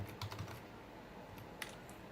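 Keys tap on a computer keyboard during reference entry in Mendeley, with a short cluster of quick typing strokes, then a lone sharper press of Enter. Close and quiet, with no talking.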